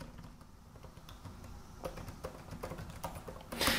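Typing on the Magic Keyboard of a 2020 MacBook Pro 13-inch base model, with soft, quiet key clicks tapping in an irregular run and a slightly louder burst at the end, close and alone.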